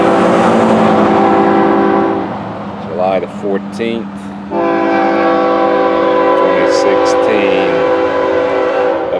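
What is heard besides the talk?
FEC train passing and sounding its horn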